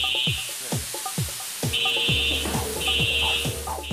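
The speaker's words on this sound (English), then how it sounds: "should fill up with water when the fire alarm is set off" A fire alarm blares in repeated high-pitched bursts, with sweeping siren-like tones and rapid electronic chirps pulsing underneath, loud and continuous.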